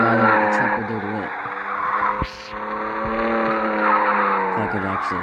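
In a FlexicX video game, a truck drives and skids toward a tire. The engine roars continuously with repeated tire squeals and skids, and there is a brief dip in the middle.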